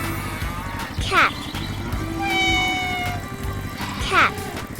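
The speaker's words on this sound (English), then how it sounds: "Cat." A cat meows several times, drawn-out rising and falling cries, close and clear over a steady rumbling background with some soft tonal noise.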